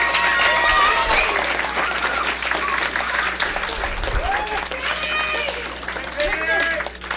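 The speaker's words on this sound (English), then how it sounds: "Let's put our hands together for another round of applause for our amazing preschoolers" An audience at a Board of Education meeting claps for preschoolers, a sustained wash of applause from a crowd heard at moderate distance, with faint voices mixed in.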